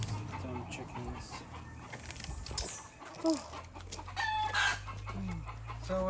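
Backyard chickens clucking at close range in short, scattered bursts, with one brief crow-like call, over steady low background hum and occasional faint sounds.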